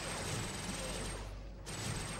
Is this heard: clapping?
no